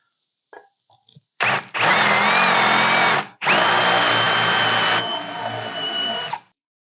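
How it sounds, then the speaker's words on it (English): A powered sharpener grinds a 9/16 drill bit in two loud, sustained whirring runs, each a few seconds long, after a few brief clicks and taps nearby. "I'm going to go sharpen up my 9/16 bit before we start that"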